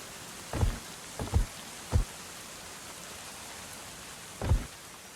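Rain falls in the Going Medieval video game as a steady, even hiss, with four soft low thumps rolling through it.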